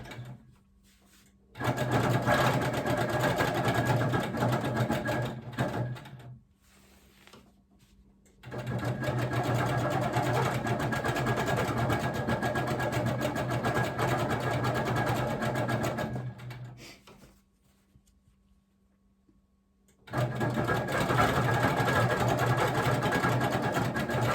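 A sewing machine quilts ice-dyed fabric, stitching around a drawn diamond shape. The motor hums loud and steady in three long runs, with short quiet pauses between them.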